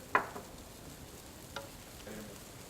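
Shrimp and sauce stirred in a pan: a faint, low simmering sizzle with a sharp utensil clink at the start and a couple of softer scraping strokes later, quiet and close, no speech.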